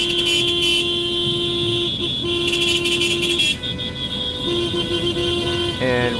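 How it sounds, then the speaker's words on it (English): Vehicle horns honk at a 2022 truck convoy in the USA, with long sustained blasts and overlapping toots from several horns over loud road noise, fairly close and continuous. "now they're going to do a lot of honking"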